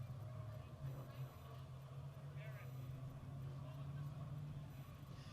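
North State Modified race cars rumble steadily on the track in the 2021 O'Reilly Auto Parts/SuperCuts 60, a continuous loud engine drone building ahead of a rolling start, with an announcer talking over it.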